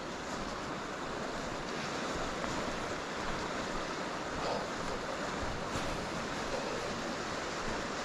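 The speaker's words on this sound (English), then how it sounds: "the river's running quite choppy there now" A choppy river rushes steadily as a broad, even hiss, with a faint breeze in the background and no voices.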